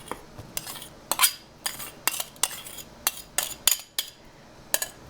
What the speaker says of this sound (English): Let's just pack in the garlic here.